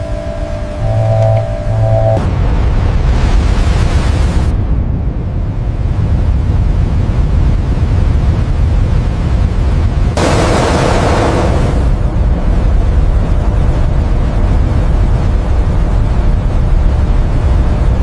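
A very powerful jet engine running on a test stand, a loud, sustained broadband roar that holds steady throughout, with brief harsher surges partway through.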